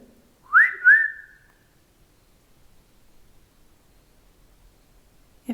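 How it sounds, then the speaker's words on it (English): Two short rising whistles in quick succession, clear and fairly close, followed by near silence. "I heard a whistle, but it sounded like a bird."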